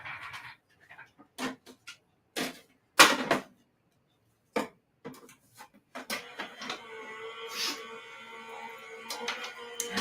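A die-cutting machine running shadow dies through, intermittent mechanical clunks and whirring bursts separated by silences, then a longer steady grinding run toward the end.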